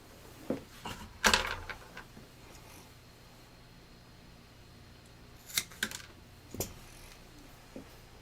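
Scissors cut a length of 550 paracord to make boot laces, giving a few short, crisp snips separated by quiet handling noise in a calm indoor setting.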